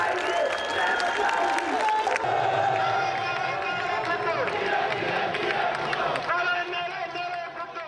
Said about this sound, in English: At a rally in December, she vowed to stand up to her country's growing Islamist insurgency.